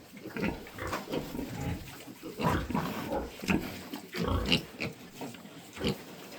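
Large White and Maximus crossbred piglets grunting and squealing in quick, irregular bursts, close and fairly loud, with several animals overlapping.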